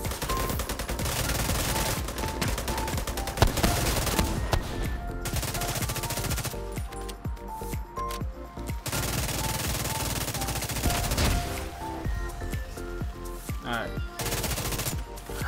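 The Railsplitter weapon firing in The Division 2: long runs of rapid, evenly spaced shots, loud and close, broken by short pauses, with faint other game sounds between bursts.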